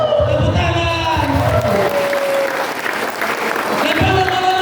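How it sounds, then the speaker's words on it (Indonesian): Church congregation of youths clapping together in a loud, dense burst that runs the full length, with scattered cheers and voices mixed in. "Tepuk tangan."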